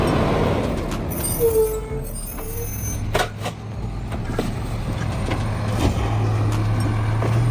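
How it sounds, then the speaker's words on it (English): A rear loader garbage truck with a compactor rumbles steadily nearby, a low engine drone with hissing, clanking bursts and a brief squeal over continuous road noise. "This is a rear loader garbage truck, known for its powerful compactor that crushes waste as bins are lifted from the back."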